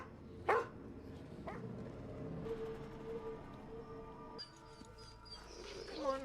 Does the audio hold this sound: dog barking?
yes